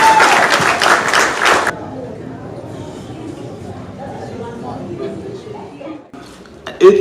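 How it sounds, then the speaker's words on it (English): Audience applause at a film festival event in Nigeria, a loud burst of clapping that stops abruptly after a couple of seconds, followed by quieter room noise and talk. "Let me just give him a round of applause, just because."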